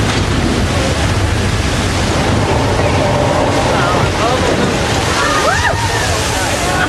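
Loud rushing and sloshing water surges continuously down a hill, a churning torrent of recycled water with some faint whistling tones partway through.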